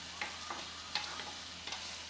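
Chopped ridge gourd fries slowly in a pan over low heat for a pure-veg stir fry, giving a faint, steady sizzle with a few soft stirring scrapes.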